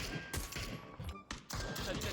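Bursts of video game gunfire crack out in quick irregular volleys, several sharp reports spread over two seconds.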